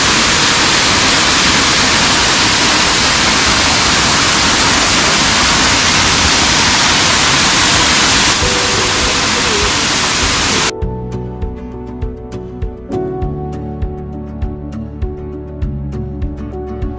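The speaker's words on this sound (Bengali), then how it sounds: "এই হলো ফল, উপর থেকে জলটা নামছে, দারুণ সুন্দর লাগছে, বিভৎস জোরে আওয়াজ আর প্রচুর জল রয়েছে।" Bamni waterfall in Purulia roars loudly in a thick, unbroken rush of falling water for about ten seconds, then cuts off abruptly and music takes over.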